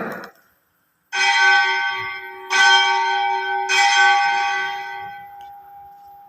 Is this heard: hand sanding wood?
no